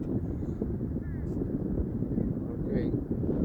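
Strong, gusty wind blows across an outdoor air-rifle range, a heavy low rumble buffeting the microphone continuously, with faint bird calls in the distance.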